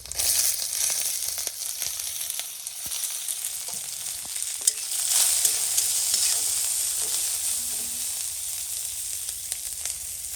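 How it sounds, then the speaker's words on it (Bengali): Black cumin seeds fry in hot oil as a tempering for a taro leaf dish, giving a continuous bright sizzle and crackle with a few soft stirring clicks, heard close and without talk. "ফোড়ন দিচ্ছি কালো জিরে। কালো জিরেটা একটু ভাজা হয়ে যাবে"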